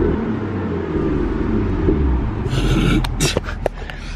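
BMW M2 with the N55 engine in Sport Plus mode, giving a loud, deep steady exhaust rumble that ends in a few sharp crackles and pops.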